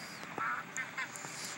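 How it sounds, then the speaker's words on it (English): Duck-like quacking from birds in the survival game SurvivalCraft, a few short nasal calls in quick succession over a quiet game ambience. "What are these birds doing around here?"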